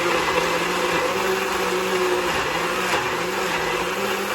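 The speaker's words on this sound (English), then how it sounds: "And then I'm just going to let the blender do its thing." A blender whirs steadily at close range, purees tomatoes with about three tablespoons of olive oil and no water for Caribbean-style stewed oxtails, a continuous motor drone with no talk over it.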